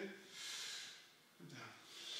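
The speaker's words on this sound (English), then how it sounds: "Deep breath in." Two quiet, airy breaths follow each other, each a long soft inhale during a jiu jitsu stretching routine.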